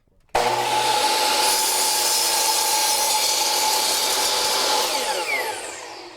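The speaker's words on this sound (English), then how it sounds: "we're going to cut these on the chop saw, and that'll give them the same length" A chop saw cuts wooden boards to equal length for a rocking chair, starting abruptly with a loud, sustained whining cut that holds steady for several seconds and then begins to wind down, close up with no voices.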